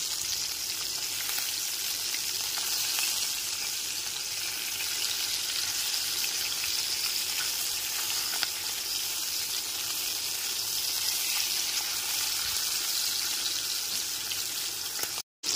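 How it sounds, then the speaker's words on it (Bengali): Fish pieces frying in oil over a medium-high gas flame for a light fish curry with potato and pointed gourd, a dense continuous hiss of hot oil, loud and close, with no talking. "মাছের পিসগুলোকে নাড়াচাড়া করে উল্টে পাল্টে নিয়ে"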